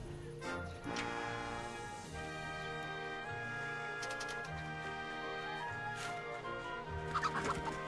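A chicken clucks repeatedly in a Wallace & Gromit video game, its squawks sitting amid a busy layer of game music, moderately loud.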